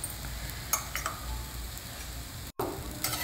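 Oil drops sizzling and crackling around a millet (jowar flour) dosa on a cast iron tava, a steady close fry with a few brief stirring or scraping clicks and a short dropout near the end.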